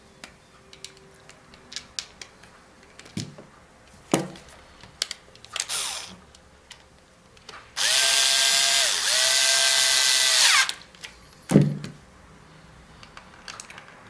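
Screws are driven back into a G&G Midcap airsoft magazine: scattered small clicks and handling taps, then one steady whirring burst of a power driver lasting a few seconds, close and loud, with no talking.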